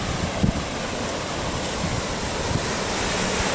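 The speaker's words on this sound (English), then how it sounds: "Here is the Gulf of Mexico." Surf washing onto the Gulf of Mexico shore at Saint Andrews, Panama City Beach, Florida, heard as a steady broadband roar with wind buffeting the microphone and a few soft thumps, no speech.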